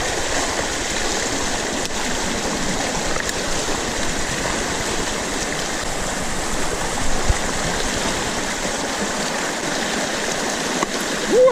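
Water rushing out through a drained beaver dam where boards have been pulled, a steady broadband roar like a stream or small waterfall, close and loud throughout with no talk.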